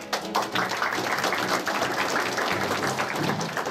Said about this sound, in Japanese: どこからともなく拍手が起こる。